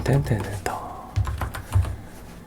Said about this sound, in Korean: 더블 클릭해서 엔터 쳐주고 백 눌러서 엔터